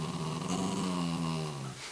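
A dog growls on command as a trick, a single close, low, sustained growl lasting about two seconds with no talk over it.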